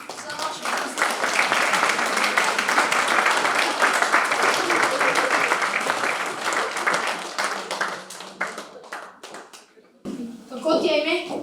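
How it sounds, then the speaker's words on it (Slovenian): An audience bursts into loud, dense applause for a young volunteer called up on stage at a community Mother's Day event, sustained for several seconds before thinning out, then stopping as voices take over. "En aplavz za našo prostovoljko."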